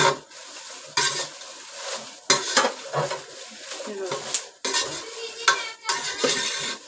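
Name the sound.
stirring roasted red chillies in a pan for Malvani masala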